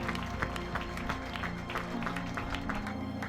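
Applause for finishers of the final stage of the Raid VTT des Monts d'Ardèche 2016 mountain bike race, an outdoor crowd clapping steadily at a moderate distance with some voices mixed in.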